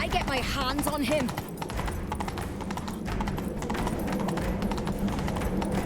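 Horse galloping in The Witcher 3: Wild Hunt, a steady rapid run of hoofbeats close by, with voices speaking over the opening moments.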